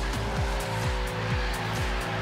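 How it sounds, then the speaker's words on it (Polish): A racing car engine in the video game Forza Horizon 3 roars steadily with repeated upward gear-shift sweeps, a loud continuous game-style engine drone with no voices. "Ogólnie auto widzę, że bardzo fajnie brzmi."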